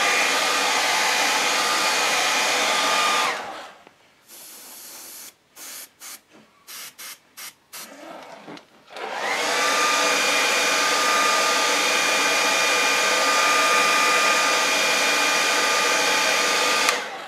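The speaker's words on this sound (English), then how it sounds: "you can use your hair dryer." A hair dryer blows a loud, steady hiss while drying paint on a custom bust, cuts out into a string of short on-off bursts, then resumes a continuous roar to the end.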